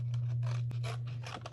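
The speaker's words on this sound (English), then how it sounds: "I'm going to cut out the wing and then trace it." Scissors cut out a paper owl wing for a paper-towel-roll craft, with about half a dozen close, rhythmic snips and rasps over a steady low electrical hum.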